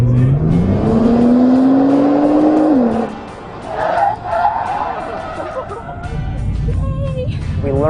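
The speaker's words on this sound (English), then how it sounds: "I'm going to gun it as fast as I can and then slam on the brakes" An engine roars as a car accelerates hard, pitch rising steadily, then cuts off abruptly into tire noise and a screeching skid; loud and close.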